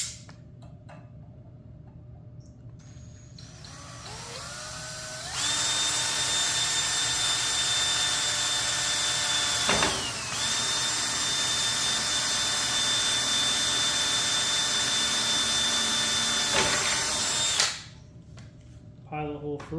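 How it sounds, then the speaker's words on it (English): A power drill bores a pilot hole through part of a racing mower, whining loud and steady for about twelve seconds with a brief dip midway before it spins down; faint handling noise comes before and after. "drill directly through this, and then I'll use a bigger bit so the head will go through this side but not that"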